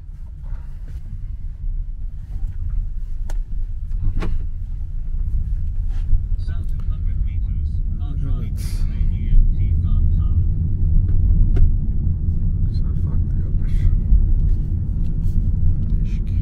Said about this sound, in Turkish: Şimdi taksimiz geldi. Taksimize biniyoruz.